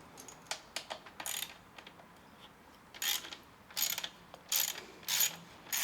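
A ratchet with a 10mm socket loosens a bolt on a radiator guard of a Husqvarna Svartpilen 401 motorcycle, giving short close clicking bursts in an irregular rhythm with quiet gaps between them.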